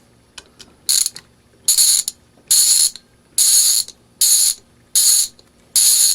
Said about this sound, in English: To reverse the ratchet, you flip it over and stick the guy back in.